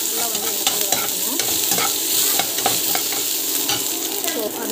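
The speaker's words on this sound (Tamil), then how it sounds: "பூண்டு போட்டு நல்லா வந்து வதக்கிட்டோம்." Garlic sautés with chana dal and cumin in hot oil, a close, busy sizzle broken by frequent stirring scrapes and clinks of the spoon against the pan, with no voices.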